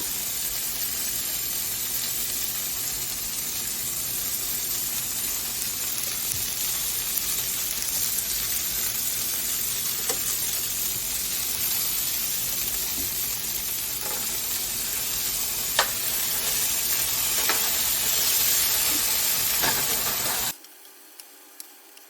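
Beef chunks sear in a hot pan for stew, giving a steady, loud sizzle and hiss with scattered pops that runs unbroken for about twenty seconds before stopping abruptly.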